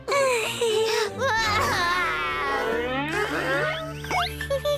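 A young cartoon character named as a small child wails and sobs in high, wavering cries that rise and fall continuously, loud and close, with a brief voice near the end.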